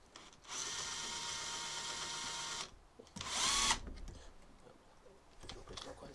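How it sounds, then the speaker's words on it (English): A power drill bores a quarter-inch hole while making an aeroscreen for a Vauxhall 14/40, whirring steadily for about two seconds, stopping, then biting through in a second short burst, with quiet handling noises. "So let's just drill this quarter inch"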